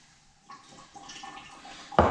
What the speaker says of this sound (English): So I'll put a little bit of water in this.